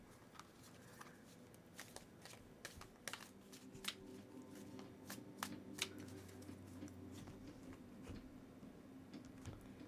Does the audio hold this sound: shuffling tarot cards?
yes